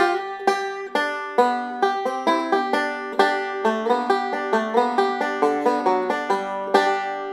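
A banjo plays the quick, bright opening four measures of Cripple Creek, crisp picked notes in a steady rhythm, heard up close with no voices.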